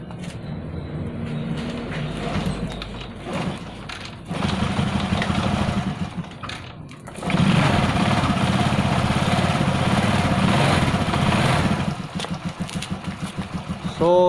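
A faulty motorcycle that would not start, being cranked and then running, with a rough engine rising to a louder sustained idle.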